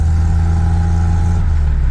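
A Toyota TE72 wagon with a five-speed swap and a leaking, cut-off exhaust drones steadily from close by while driving on the road, its low engine hum rough and continuous with no one talking.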